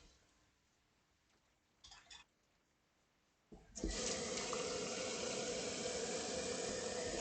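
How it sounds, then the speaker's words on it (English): Water poured into a water filter in a home kitchen: after a few faint clinks, a steady rushing splash begins and keeps going, close and fairly loud, with no talking. "Water for the filter pour le filtrage d'eau."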